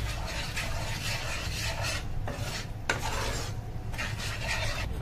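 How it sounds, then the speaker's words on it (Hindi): Spices are mixed through potato filling in a pan, a spoon rasping and scraping steadily against the metal in close repeated strokes, with no talking. "मसाला सब मिक्स करेंगे अच्छे से।"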